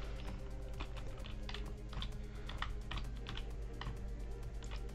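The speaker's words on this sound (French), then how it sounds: "désolé pour les bruits de clavier" A computer keyboard sits right beside the microphone, its keys tapped in quick irregular bursts of clicks over a low background hum, close and clear, with no talking.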